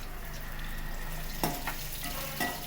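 Chopped onion and green chili sautéing in a pan with oil for upma, a steady close sizzle with a couple of brief stirring scrapes, no voices.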